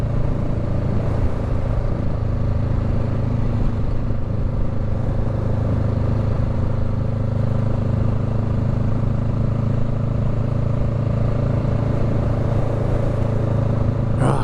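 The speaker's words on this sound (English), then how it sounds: "Twist that throttle. Make a little noise." A motorcycle idles at night on a street, its low, steady engine rumble running continuously without a clear rev spike and with some mechanical clatter, close and fairly loud.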